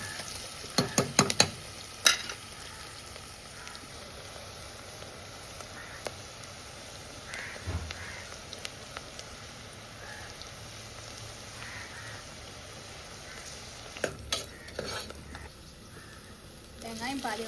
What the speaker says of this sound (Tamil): வெங்காயம் பாதி வதங்கிடுச்சு.